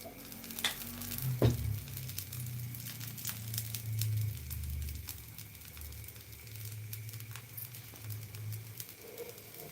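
A dosa sizzles steadily on a hot pan after oil is drizzled over it, with a continuous crackling hiss and a few louder pops near the start.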